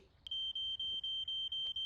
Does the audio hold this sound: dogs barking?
no